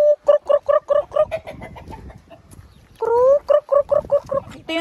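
Farm chickens in the Finnish countryside being fed leftover vegetable scraps, a quick run of loud, clear clucks in regular bursts, a brief pause, then another rising cackle and more rhythmic clucking up close.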